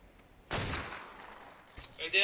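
A cannon fires in the online survival game ARK during a PvP raid: a sudden loud broadband blast at about half a second, followed by a long rumbling decay, a second thud later, and bright crackling noise at the end.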